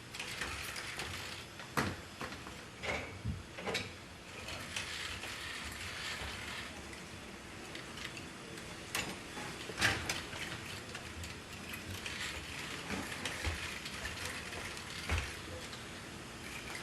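A humanoid robot named Neo loads items into a dishwasher, producing quiet mechanical clicks, ratcheting and clattering knocks at irregular intervals over a faint steady background hiss.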